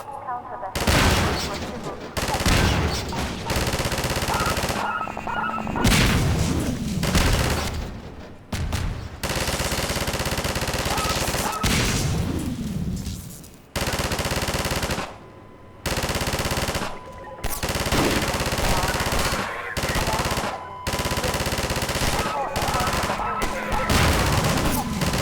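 Mounted machine gun in Half-Life 2 on the Route Kanal canals, firing long, loud, near-continuous bursts with brief pauses, dense rattling fire and booms, no talk.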